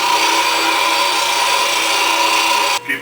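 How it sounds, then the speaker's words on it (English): A woodturning gouge held with its flute against a grinding wheel for reshaping: a continuous harsh, gritty grinding whine, loud and close, that stops abruptly near the end. "I'm going to put the flute right against the wheel to give it the shape on the front that I want to grind to"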